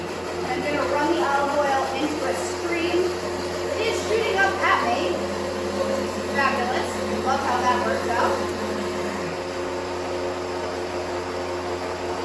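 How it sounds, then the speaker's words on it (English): A countertop blender runs steadily while olive oil is poured in, a continuous even whirr with a faint high whine beneath someone talking throughout. "while the blender is running, add the olive oil in"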